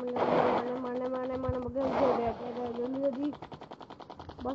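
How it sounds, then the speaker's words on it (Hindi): Gunfire in the aerial combat video game Sky Fighters sounds as a rapid, evenly spaced machine-gun burst near the end, with an excited voice talking loudly over the game sounds. "सारी गोली चल रही है"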